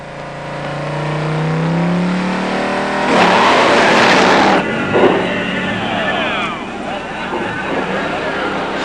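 Two drag cars launch, a 1969 Cougar with a 428 four-speed and a 1968 Firebird Ram Air II four-speed, with a loud roaring burst that rises and shifts, mixed with a commentator talking.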